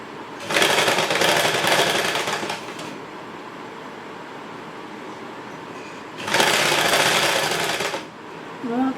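A sewing machine stitches a folded hem on a lining blouse in two loud, steady bursts of a few seconds each, with a quieter gap of fabric handling between them.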